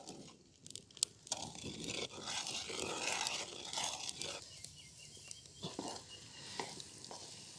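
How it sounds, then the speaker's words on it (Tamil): Thick sugar syrup for a giant lollipop bubbles and crackles in a pan while a spoon scrapes and stirs it in bursts, close and fairly quiet. "இப்போ பார்த்தீங்கன்னா நல்லா பப்புள்ஸ் வருது, நல்லா கொதிக்குது."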